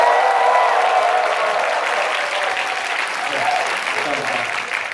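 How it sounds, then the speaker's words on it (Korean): Loud, sustained applause and cheering from the crowd at a university worship and praise department open house, a thick roar of claps and voices running throughout without a break. "더 큰 박수 함성 부탁드리겠습니다"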